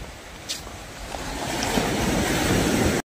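Morning sea waves washing onto a Konkan beach at Shrivardhan, a steady broad rush of surf building slightly, with wind noise over the microphone, before an abrupt cut.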